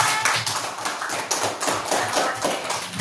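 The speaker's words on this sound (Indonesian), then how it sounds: "Oke, lanjut tepuk tangan." A classroom of pupils claps together in a rhythmic, patterned beat, sharp close taps repeating steadily for about three seconds with no talk over them.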